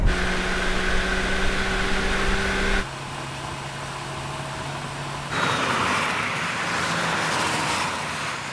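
Small Honda sports car engine held against the rev limiter, a loud steady high-pitched drone that steps sharply in pitch and level twice, with no talk over it.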